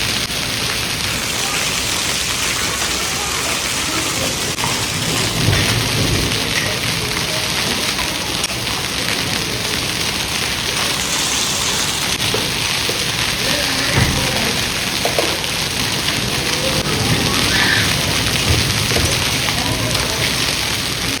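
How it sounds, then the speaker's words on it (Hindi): Heavy hail and torrential rain pound down steadily onto a courtyard and pillars during a violent storm, a dense continuous roar with occasional low rumbles; a person speaks over it. "यहाँ हमारे पिलर पे आके जो है ना ओले गिर रहे हैं और बड़ी तेज़ी के साथ आ रहे हैं नीचे"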